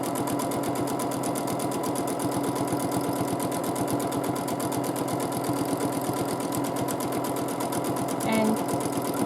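A sewing machine runs continuously while free-motion quilting a rail fence baby quilt, its fast, even needle chatter holding a steady rhythm from start to finish.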